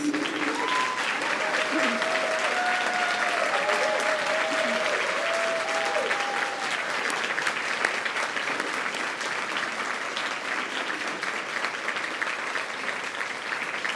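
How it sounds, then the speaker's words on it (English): Sustained applause from a large crowd, steady and loud throughout, with a few voices and tonal sounds briefly rising over the clapping early on. "please give them a round of applause"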